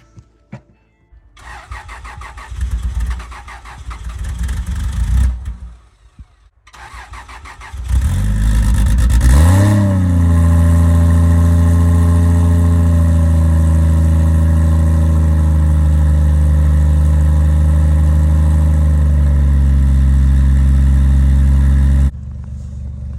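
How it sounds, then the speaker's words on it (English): A 2JZ-swapped Jeep Cherokee fires up outside in snowy weather: a few cranking bursts with pauses, then the engine catches with a rising rev and settles into a loud, steady, throaty idle that holds close by until it cuts off near the end. "So I decided to fire my Jeep up and go for a ride, I guess."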